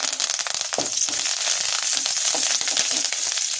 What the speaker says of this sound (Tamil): எண்ணெய் சூடி எரிச்சு கருவேப்பிலையை பொரிச்சு எடுத்துக்கலாம்